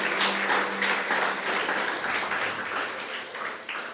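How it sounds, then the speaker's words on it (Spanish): A church congregation bursts into loud, dense applause during a sermon, a thick, sustained wash of clapping that holds steady before easing slightly near the end. "vamos, dale un aplauso."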